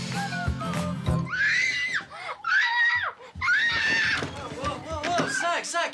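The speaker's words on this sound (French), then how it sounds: "arrête de crier, là" A child screams in several long, piercing bursts separated by short pauses, loud and close, mixed with other voices and household noise.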